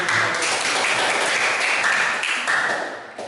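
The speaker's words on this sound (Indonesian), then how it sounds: "Oke, kasih aplaus." A classroom audience applauding, giving a steady burst of many hands clapping together for about three seconds before fading slightly at the end.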